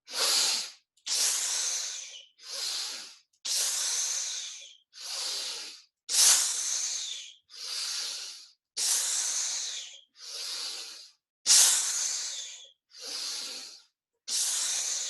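Forceful, hissing exhalations in a breath work exercise repeat about a dozen times in steady rhythm, each a loud breathy rush close to the microphone with short gaps between.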